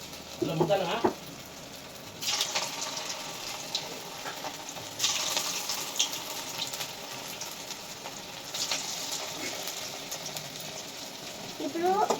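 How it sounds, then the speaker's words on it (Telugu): Corn fritter batter dropped into hot oil, frying with a steady sizzle and crackle that swells in several bursts, close and moderately loud, with some stirring clatter. "ఇప్పుడు ఆయిల్ వేడైందో లేదో కొంచెం వేసి చూద్దాం"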